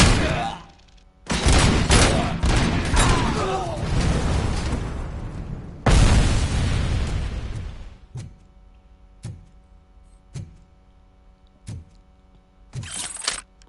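Video game combat with an AK-74: loud bursts of gunfire and explosions, a long roaring blast sequence early, then a second big explosion, followed by sparse single sharp shots spaced a second or so apart and a final burst.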